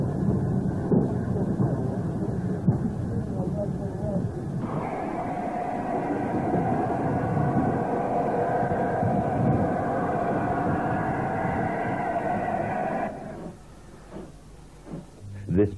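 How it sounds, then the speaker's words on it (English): LNER Class B1 steam locomotive, one of a 1942-onward class of 409, running with a steady, loud rumbling and clanking that holds for about thirteen seconds before dropping away to quieter sounds. "Engine number 61155 was one of 409 Class B1s built from 1942 onwards."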